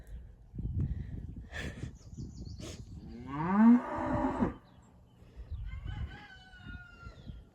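A cow moos one long, loud, low groaning call near the house, set among farmyard ambience with a rooster crowing and faint chicken sounds before and after.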